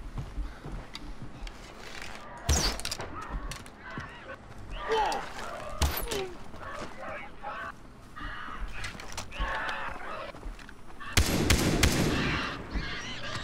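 Geese-like birds honk repeatedly in Far Cry 3 over constant game ambience, broken by a few sharp, loud bursts and some nearby talk.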